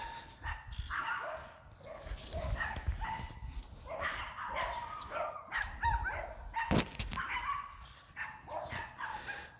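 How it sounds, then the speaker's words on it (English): Several neighboring dogs bark repeatedly at a moderate distance outdoors, sharp overlapping barks and yips continuing throughout over faint background noise. "the neighbor's dogs are barking"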